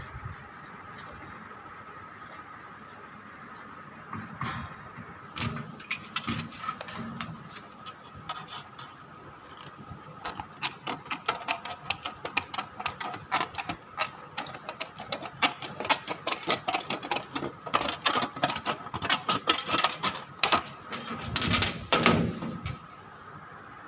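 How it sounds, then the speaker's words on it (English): Straight hand snips cutting a thin sheet of 22-gauge or lighter metal in a sheet metal shop, a series of sharp repeated crunching clicks that grow denser and louder as the cut proceeds, with no speech. "This is cut with the help of straight snip."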